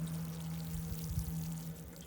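Water pours onto a plant in a home garden in mid-June, a quiet, continuous splashing and trickle lasting a couple of seconds with a low hum underneath.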